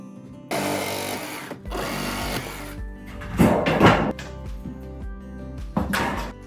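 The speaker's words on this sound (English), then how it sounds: "We are cutting the nails instead of pulling them out with a crowbar to avoid damaging the gypsum board." During a kitchen demolition in a 2x4-framed house, a power tool cuts through nails in a series of loud, gritty bursts, each lasting a second or so, with brief pauses between them.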